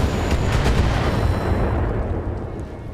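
Mech weapons in the video game BattleTech firing on a turret: a dense burst of booming cannon and gunfire blasts with rapid repeated impacts, loud at first and then fading into a rumbling tail.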